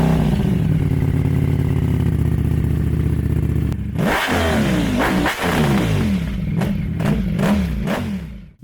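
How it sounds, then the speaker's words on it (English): A 2026 Ducati Panigale V4 S with a full Akrapovic race exhaust drones at a loud steady idle-high rev, then fires off a string of sharp throttle blips and revs with crackling, close and harsh. "the full Akrapovic race system sounds like a Tyrannosaur stuffed in a tin can"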